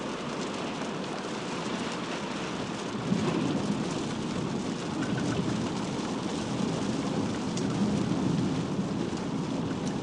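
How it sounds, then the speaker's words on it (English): A steady afternoon thunderstorm pours rain onto a road, with a constant broad hiss of rainfall and a faint low rumble beneath, heard from nearby and without voices. "It's getting into the rainy season, Jay, so we have afternoon thunderstorms, rain"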